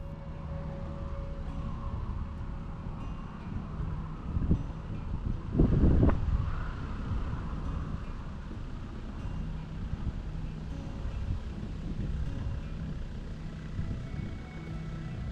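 Wind buffets the microphone while a canal boat is turned around, a steady rushing roar with low engine hum beneath and a brief louder gust swell midway.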